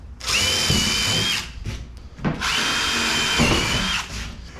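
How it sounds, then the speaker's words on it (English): A power drill whines at high speed in two long bursts, pre-drilling guide holes in jon boat plywood flooring, with a short pause and clatter between them. "I'm gonna go through and pre-drill all of the guide holes."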